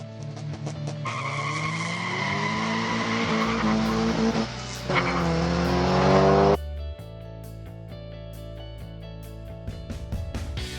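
A diecast muscle car speeding down a toy track in a time trial, a loud rolling whir with a rising tone that cuts off abruptly, followed by a quieter rattling tail.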